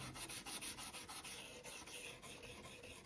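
Sandpaper rubs back and forth along American Flyer S gauge model train track rails, a fast, even rasping rhythm of quick strokes, close but quiet and unbroken by speech.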